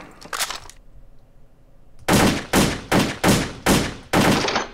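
AK47 gunfire on a shooting range in the World of Guns game: a lone shot, a pause, then five loud, evenly spaced shots in quick succession, close and sharp with no talking.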